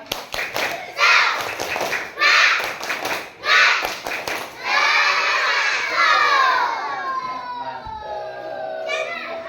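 A class of third-grade pupils at an Islamic primary school performs the tepuk semangat clap chant, with bursts of sharp rhythmic claps and loud shouted young voices filling the room, close and energetic.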